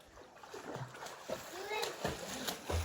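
Water splashes in a round village well used for swimming. Scattered splashes and sloshes sound fairly soft and somewhat distant, with people talking over them.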